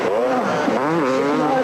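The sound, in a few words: Honda motocross motorcycle racing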